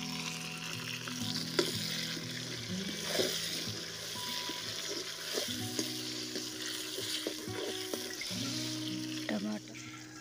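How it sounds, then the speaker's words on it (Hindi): Garlic and onion sizzle and fry in a pan while a spoon stirs and scrapes through them, with voices talking quietly underneath. "चम्मच चलाते रहेंगे लाल हो जाएंगे मसाला नहीं लहसुन प्याज लाल हो जाएंगे।"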